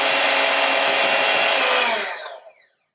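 Cold cream being whipped in a chilled crock makes a steady, loud whirring drone that runs unbroken for about two seconds and then spins down to silence, with no voices.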